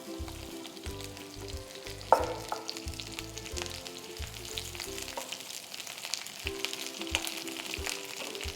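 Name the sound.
ridge gourd peel sautéing in hot oil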